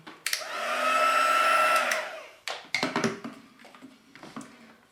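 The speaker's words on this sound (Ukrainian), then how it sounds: "І знову розплавимо пудру з допомогою фену." A heat embossing tool whirs steadily for about two seconds melting embossing powder, then shuts off, followed by light clattering and tapping nearby.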